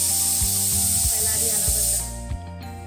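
A pressure cooker vents steam in a loud, continuous high hiss through most of the clip, with a steady tone and some kitchen clatter beneath it, before the hiss suddenly drops away near the end.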